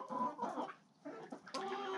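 Newly arrived chickens clucking nervously inside a coop, a close, steady run of soft clucks and murmurs with a brief pause midway.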